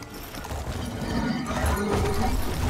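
Horse hooves clip-clop steadily while riding in the Warframe video game, a continuous rhythmic trot at moderate loudness over a busy game soundscape with music.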